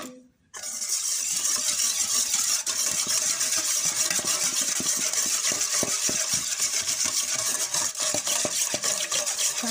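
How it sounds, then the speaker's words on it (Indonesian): Egg yolks being beaten for a soft sponge cake batter, a steady, loud, continuous whirring mixer drone that starts abruptly after a brief silent moment and runs unbroken, with faint clinks of the beaters against the bowl. "Kita masukkan kuning telur ya. Kita kocok ya."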